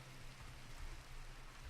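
Faint, steady rain hiss from a Minecraft Modern Skyblock game world, continuous low patter with no talk over it.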